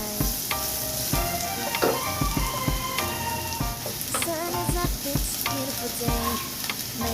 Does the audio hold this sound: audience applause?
no